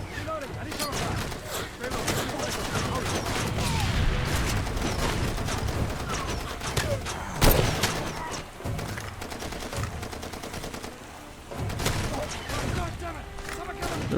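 Gunfire in the video game Far Cry 2, with shots and scattered bursts crackling through a busy battle, one sharper close report standing out midway, while a person talks over the fight.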